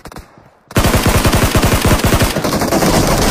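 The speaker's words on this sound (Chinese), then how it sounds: "我在左边开枪" Rapid automatic gunfire in the battle royale game Peacekeeper Elite starts abruptly after a quiet moment and keeps going as a loud, close, evenly spaced burst of shots with no talk.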